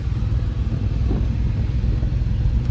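A loaded goods vehicle pulls away with a loud, steady engine rumble and a low throbbing drone close by, with no talk over it.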